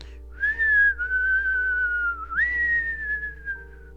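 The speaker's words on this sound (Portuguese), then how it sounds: "Joãozinho começou a assobiar." A person whistles a clear, sustained melodic tune alone, the notes gliding up and down over about four seconds, close and loud.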